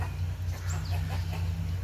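Chickens cluck softly over a steady low hum, a few quiet calls scattered through the moment.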